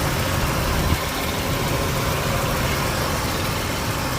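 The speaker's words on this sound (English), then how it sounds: "There's the engine, the V6." A rebuilt V6 engine in a 1993 Nissan Pathfinder XE idles at a high idle, a loud, steady, unbroken rumble throughout.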